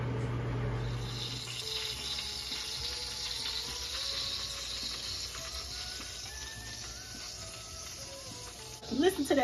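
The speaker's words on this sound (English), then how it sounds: "Listen to that sizzle." Food sizzles steadily in a hot pan for Easter dinner, a continuous close-up hiss with faint crackles that flares louder at the end.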